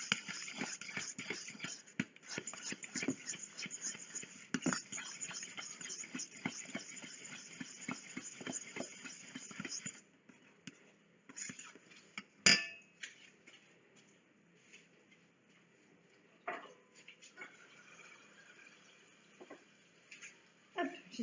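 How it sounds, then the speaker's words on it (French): Banana bread batter is mashed and stirred in a bowl, with quick rhythmic scraping and tapping strokes for about ten seconds, then quieter handling with a few sharp knocks. "et vous mélangez"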